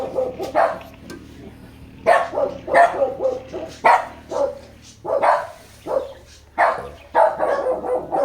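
Several dogs barking nearby in repeated bursts, loud yaps overlapping and pausing, continuing irregularly throughout.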